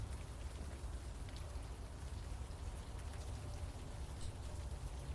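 Rain falling in the video game Unavowed, a continuous, even hiss and patter of drops on surfaces, quiet and unbroken with no voices.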